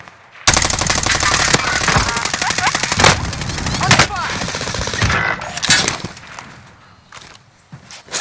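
Gunfire in a Call of Duty Warzone Caldera match: loud, close bursts of rapid automatic fire with sharp single shots and crackling impacts, steady for several seconds before fading near the end, with brief game voice callouts mixed in.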